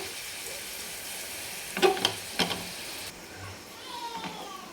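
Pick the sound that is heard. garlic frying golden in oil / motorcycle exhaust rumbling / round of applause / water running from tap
garlic frying golden in oil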